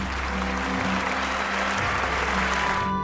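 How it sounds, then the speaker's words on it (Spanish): Diners in a school hall applaud first-year students at a welcome dinner, a steady mass of clapping over a low droning hum, holding evenly for a few seconds before cutting off abruptly. "para los que pido un aplauso."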